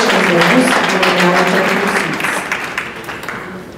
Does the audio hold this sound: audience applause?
yes